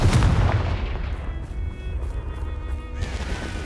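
A Confringo fire spell in the Hogwarts Legacy video game lands with a loud, sharp blast right at the start, then rolls off into a rumbling decay and faint lingering game ambience. No one speaks.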